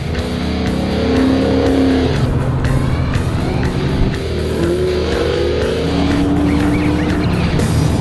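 A 2007 Ford Mustang Boss 302 with a shaker hood, heard from inside while being driven hard: a loud, continuous engine drone with rising revs and shifts, plus road and tire noise, with no talking.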